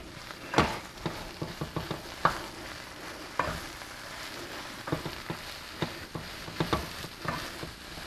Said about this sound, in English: And I'm going to stir this around.